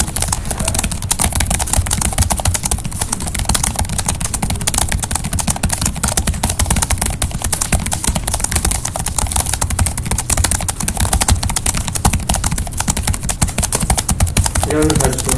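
Rapid, continuous clacking of a computer keyboard during fast Monkeytype typing, dense and steady throughout at close range, with faint talking in the background.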